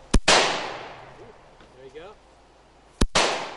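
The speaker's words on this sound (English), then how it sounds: "how to fire a semi-automatic weapon, like this Russian assault rifle." Two sharp, loud gunshots from a Russian semi-automatic assault rifle, fired outdoors about three seconds apart, each ringing off into a long echo, with brief talk in between.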